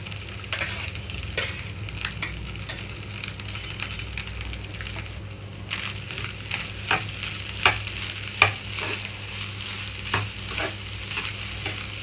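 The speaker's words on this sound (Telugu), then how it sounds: "కొద్దిగా ఆరిపెట్టుకున్న రైస్ని ఇందులో కలిపేస్తున్నాను" Cooled rice is stir-fried in a pan for onion egg fried rice: a constant low sizzle with repeated scraping and tapping strokes of a spatula, growing a bit busier toward the end.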